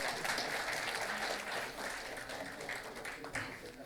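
Applause from an audience at a national convention of insolvency professionals and registered valuers, a steady dense wash of clapping through the whole stretch with faint voices mixed in.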